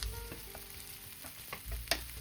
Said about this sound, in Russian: Отправляю обжариваться сначала лук до легкого золотистого цвета.